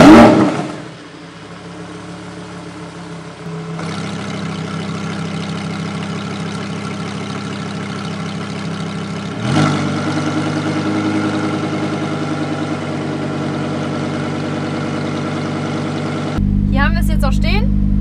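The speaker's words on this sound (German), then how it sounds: "Sobald ich auf Sport stelle, merkt man auch, wie der Auspuff lauter wird und dann auch noch mal lauter." A Lamborghini Huracán Performante idles with a deep exhaust rumble, then steps up louder twice as sport modes are selected and the exhaust note grows stronger, ending in a sharp rev.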